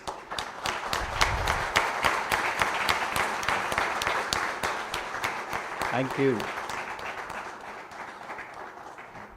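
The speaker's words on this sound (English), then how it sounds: "you as students need to give them a big round of applause" A big round of applause from students at a graduation ceremony for their parents and teachers, sustained crowd clapping close and loud throughout, with a brief spoken thank-you near the end.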